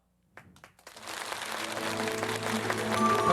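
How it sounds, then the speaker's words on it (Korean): Audience applause rising into sustained clapping at the ninth Honbul Literary Award ceremony, starting with a few scattered claps and swelling into a dense, steady wash of hands with music-like tones underneath. "박수 부탁드리겠습니다."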